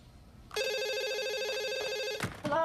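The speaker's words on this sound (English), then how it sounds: "Isn't that your phone?" A telephone rings in one sustained, loud electronic trill lasting about a second and a half, then cuts off abruptly, followed by a brief rustle and a faint voice-like sound.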